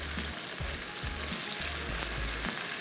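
Mutton chops, partly tenderised, fry in a pot for cocktail biryani, producing a loud, constant sizzle and spatter close by, with a few soft low thuds from the pot underneath.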